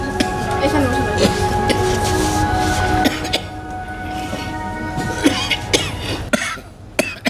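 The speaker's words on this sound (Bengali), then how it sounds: "কাশিটা তো আগের মতো।" A patient in a doctor's examination scene coughs a few times under ongoing talk, with a steady background hum and occasional sharp bursts.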